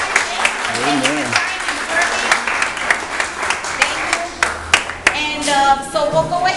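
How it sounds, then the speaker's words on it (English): Church hall audience at a Salvation Army Compton Corps Love Kitchen gathering bursts into steady, fairly loud applause, mixed with voices and cheering. "Let's give them a round of applause, guys."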